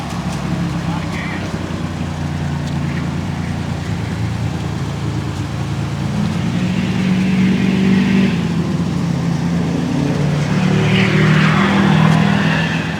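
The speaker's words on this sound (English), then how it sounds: "That was a very loud diesel truck that just drove by." A loud diesel truck roars past with a steady low drone that swells toward the end, with voices talking over it.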